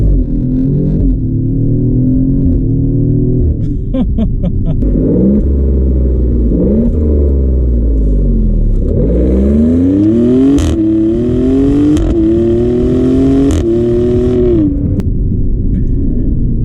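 Maserati Grecale Trofeo SUV engine revving on an open road, loud and close, with repeated rising and falling sweeps as the revs climb and drop, plus a few sharp pops near the end.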